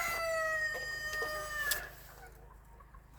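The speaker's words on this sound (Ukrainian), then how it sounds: "Випустила бентамок" Small chickens cluck and a rooster gives a short crow, fairly close, with scattered clucks fading into quiet.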